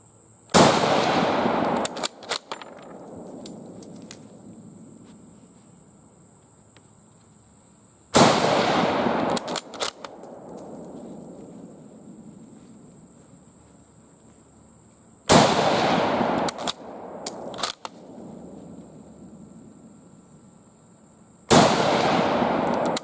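Four loud, sharp gunshots from a Persian M49 Mauser carbine rifle fired outdoors, spaced several seconds apart, each with a long rolling echo that fades before the next shot, with brief rattling handling sounds after each.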